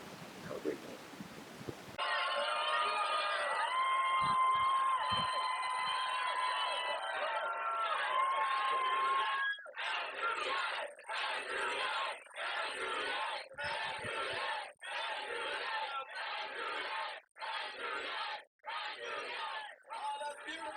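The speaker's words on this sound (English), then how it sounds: "I can't even go to sleep without a crowd of thousands chanting my name anymore" A huge crowd of thousands chants a name in loud, rhythmic unison, each burst of voices separated by brief gaps, broad and roaring as if filling a large arena, with no single speaker standing out.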